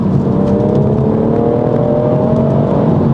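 A BMW M140i engine drones steadily at 4,000 RPM in third gear, a muted but continuous hum with a rising tone, loud and close throughout.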